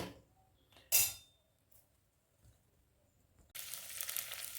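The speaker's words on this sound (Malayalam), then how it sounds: "നേരെ വെളിച്ചെണ്ണ ഒഴിച്ച് അതിലേക്ക് ഉള്ളിയിട്ട് നന്നായിട്ട് വാട്ടുന്നതാണ് കാണുന്നത്" Onions dropped into hot coconut oil for a Kerala tuna fish curry, a sudden hiss that settles into a steady close sizzle after a brief clatter and quiet pause.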